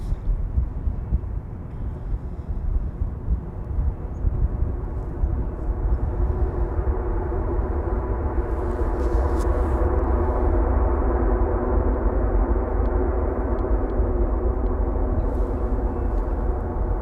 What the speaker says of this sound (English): This is the Transavia A321neo arriving from Valencia.